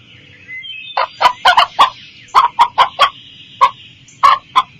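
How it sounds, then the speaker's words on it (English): A farm chicken clucks in a run of about a dozen sharp, close calls, irregularly spaced and loud against a quiet background. "The chicken."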